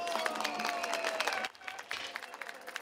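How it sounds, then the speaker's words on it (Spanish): Applause from a crowd at the opening ceremony of a youth school olympics, steady dense clapping that dips and thins briefly midway before picking back up, with faint voices mixed in. "Fuerte los aplausos para el jefe académico, el señor Fernando Rodríguez."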